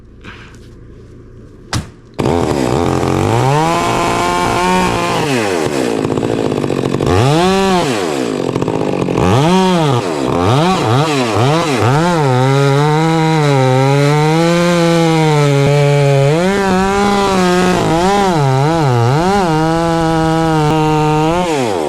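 A chainsaw revs and bites into a cedar during a tree removal, its engine note rising and falling in repeated loud surges close by, running almost continuously after a brief quiet start.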